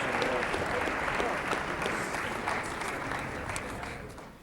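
Crowd applause at a college basketball game honoring Cal's second Athletic Hall of Fame class in an arena, steady broad clapping with crowd noise that slowly tapers over several seconds.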